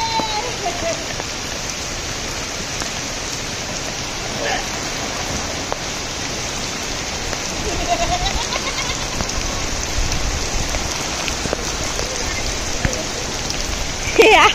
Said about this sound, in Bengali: কি জোরে বৃষ্টি পড়ছে।